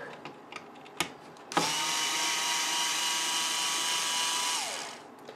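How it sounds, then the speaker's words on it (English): A power screwdriver whirs steadily for about three seconds while parts are removed from a Team Associated B6 RC buggy during teardown, preceded by a few small clicks and a sharp tap, loud and close with no talking. "we can start with the power screwdriver"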